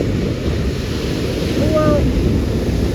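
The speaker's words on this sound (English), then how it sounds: "that sure was a big wave there" Big ocean waves breaking at Aliso beach make a steady, loud roar of surf mixed with wind buffeting the microphone, continuous throughout with a brief faint tonal sound near the end.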